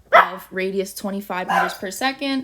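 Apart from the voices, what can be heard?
dogs barking in the background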